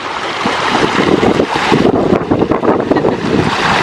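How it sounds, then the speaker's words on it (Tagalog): Steady rushing water of a stream in Sariaya, Quezon, fills the clip, a continuous broadband wash over rocks, loud and close with some wind buffeting the microphone. "Sarap pakinggan ng tunog ng tubig."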